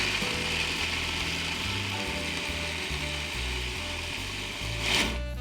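A food processor grinds peanuts into powder, a loud, continuous whirring and rattling drone with a steady, chopping pulse that holds throughout and swells briefly near the end.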